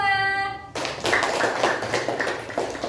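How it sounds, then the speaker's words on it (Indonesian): Classroom applause for a student group during a microteaching lesson: after a brief tone, a burst of many hands clapping steadily and close, sustained to the end. "Kita kasih aplaus dulu untuk kelompok 2."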